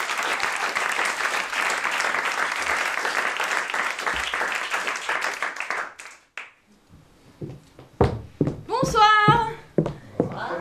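Theatre audience applauding loudly with dense clapping for several seconds, fading out as a performer begins speaking on stage, with brief laughter and voices afterward.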